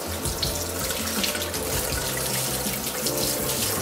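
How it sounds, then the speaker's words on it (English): Cold tap water runs steadily over a muslin cloth in a kitchen sink, a continuous close splashing gush with no voices. "run some cold water over it"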